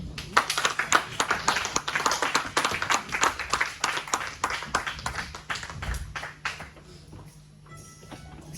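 A congregation claps steadily in unison at a church service, sharp, fairly loud, rhythmic claps that continue for several seconds and then thin out and fade toward the end.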